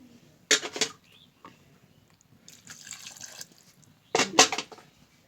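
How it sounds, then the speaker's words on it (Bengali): Water poured in brief splashing bursts into a bitter gourd mixture in a cooking pan, three separate pours with quiet pauses between them. "এখন আমি একটু পানি দিব"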